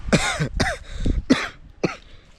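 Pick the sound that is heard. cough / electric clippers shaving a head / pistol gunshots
cough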